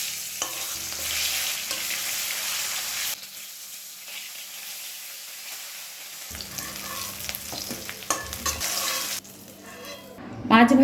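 Pieces of snakehead (shol) fish fry in hot oil, a steady close sizzle broken by scraping and stirring, with a brief lull midway and a few utensil clinks near the end.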